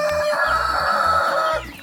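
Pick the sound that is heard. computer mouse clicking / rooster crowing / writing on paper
rooster crowing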